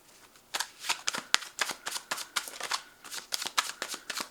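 Tarot cards are shuffled close up, with a brisk run of sharp riffling slaps and flutters in an uneven rhythm and no voice over them.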